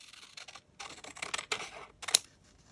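Scissors cut through paper sections for handmade craft ephemera, giving several crisp, close snipping and rustling bursts separated by short pauses, with one sharp click near the end and no voices.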